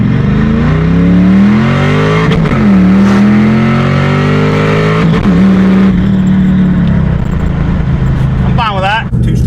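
A manual-transmission car with a new clutch launched hard through first and second gear, engine revving up in two rising pulls with a shift between, loud and close from inside, with brief tire squeal near the end.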